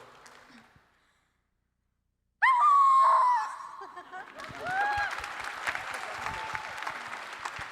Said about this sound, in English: give us your best howl